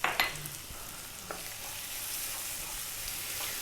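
Spices like green cardamom powder, chili, coriander and cumin drop into a hot pan with a brief clatter, then a steady loud sizzle of frying and stirring holds on with no talking.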